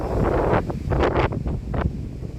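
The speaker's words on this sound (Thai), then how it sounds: "ลมแรงมากครับผมได้ยืนอยู่ที่โล่งนะครับ" Strong, gusty wind in an open area buffets the microphone in loud, roaring surges that rise and fall several times, with no other sounds standing out.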